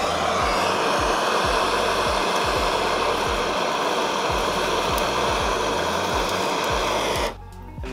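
A blowtorch roars in a steady, loud hiss as it sears the tops of raw Tasmanian scallops, then cuts off abruptly near the end.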